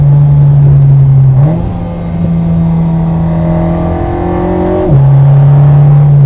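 The engine of an Alpine A110 R Ultime sports car revs loudly and close, its pitch climbing through gear changes in a steady, smooth acceleration.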